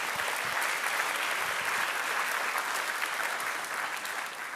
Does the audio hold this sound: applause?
yes